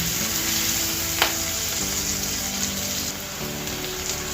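Sliced onions frying with turmeric in a pan, a continuous close hiss and sizzle with a single clink, under a steady tonal background hum.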